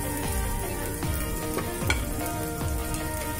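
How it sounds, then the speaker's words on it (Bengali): Ginger paste sizzling loudly in hot oil during tempering, a dense continuous frying hiss close up with faint stirring scrapes throughout. "ফোড়নটা এখন ফুটে গেছে, এবার আমি এখানে আদা বাটাটা দিয়ে দিচ্ছি।"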